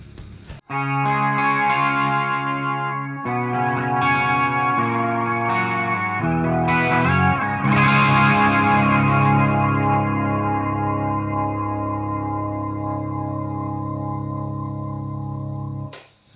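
Sustained electric guitar chords through a BOSS MO-2 Multi Overtone effect pedal, shimmering and layered, notes wavering and oscillating between pitches before a long ringing tail fades out.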